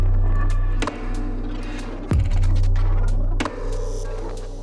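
The first section of a glitch electronic track plays, with a heavy sustained bass bed, crisp clicks and a few sharp glitchy hits and sweeps breaking through.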